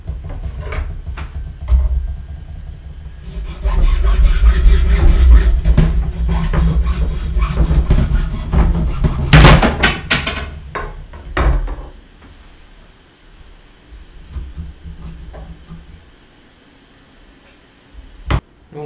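PVC pipe is cut by hand with a saw, giving several seconds of loud, close rasping strokes that then give way to scattered knocks and handling sounds.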